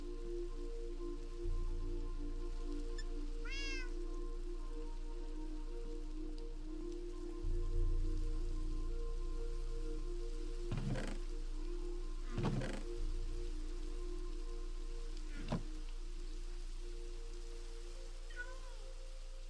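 Rain falls in the Cobblemon mod of Minecraft as a steady, soft patter that continues throughout, joined by a few sharp taps, chirps and a sustained tonal background.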